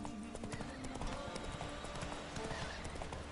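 Horse hooves clip-clop in a steady, quick rhythm in The Witcher 3 on PS4, close and continuous over ambient game sound.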